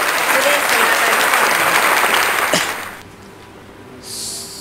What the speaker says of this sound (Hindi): एक बार जोरदार तालियां बजाते हैं